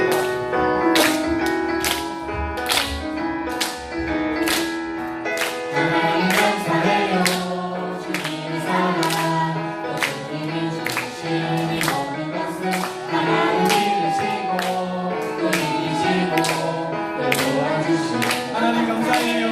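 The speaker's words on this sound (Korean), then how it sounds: "힘차게 박수 치면서 사인드리겠습니다." A congregation at a church service claps hands vigorously in a steady rhythm over loud accompanying music with a tuneful melody, the sharp claps repeating throughout.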